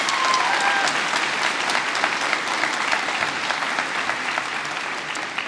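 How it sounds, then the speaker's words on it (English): School graduation audience at Coláiste Chiaráin applauds the Parents' Council, a loud, steady wash of many hands clapping that continues evenly throughout and tapers slightly at the end. "So give a round of applause for our Parents' Council"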